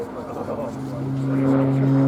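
Embraer Tucano turboprop in an airshow display at Duxford, a drawn-out droning whine with a steady tonal hum that swells as the aircraft dives. A commentator talks over it.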